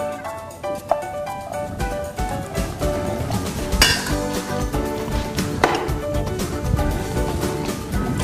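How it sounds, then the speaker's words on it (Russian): A knife scrapes and clinks against a plate in repeated strokes while cutting a steak, with light metallic taps and kitchen clatter up close. "Разрезаем стейк."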